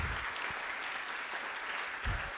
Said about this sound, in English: This is an applause, by the way.